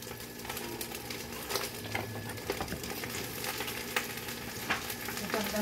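Kangkong (watercress) sautéing in a pan, with a steady, fairly close sizzle and scattered crackles, stirring clatter and scraping throughout, and no talking.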